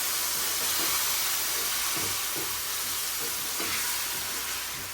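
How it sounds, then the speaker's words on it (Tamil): Chopped tomatoes fry in a hot pan in a home kitchen, giving a loud, continuous broadband sizzle and hiss that holds steady throughout, close up with no voices. "அரிஞ்ச டொமாட்டோவை போடுகின்றேன்."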